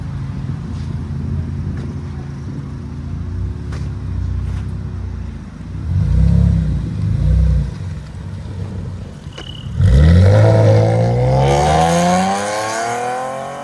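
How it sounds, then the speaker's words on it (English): A 2014 Chevy Camaro RS 3.6L V6 with a SPEC-D Tuning cat-back exhaust idles, then revs up sharply with a rising, throaty roar that peaks and settles, loud and close. "Chevy Camaro RS V6 with a SPEC-D tuning"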